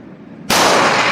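A single sudden, loud gunshot from a .45 M1911 A1 pistol firing full metal jacket rounds at a shooting range blasts after a brief quiet moment and rings on sharply.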